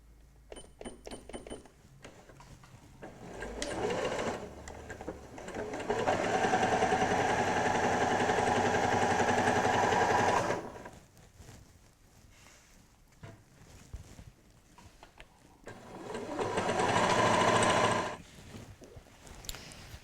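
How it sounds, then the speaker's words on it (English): Domestic sewing machine stitching the side seams of a summer tote bag with a quarter-inch seam, running in two bursts: a long steady whir of several seconds, a pause, then a shorter run, close and fairly loud. "I'm going to sew the side seams. So I just sew from the top down to here."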